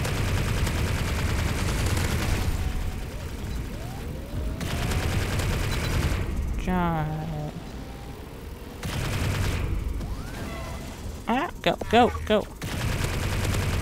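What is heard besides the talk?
gunfire in the video game Assault Bots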